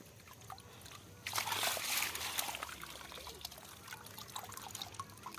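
Caught koi fish tipped out of a container at a wetland pond, splashing and sloshing water in a loud burst of a second or so that settles into steady trickling and small splashes.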